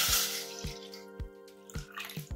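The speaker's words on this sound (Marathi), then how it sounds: "तर 2 वाट्याला मी 2 वाटी पाणी टाकणार आहे." Water poured into rice flour for ukadiche modak dough, splashing and trickling up close with a few soft knocks against the vessel, quiet and without speech.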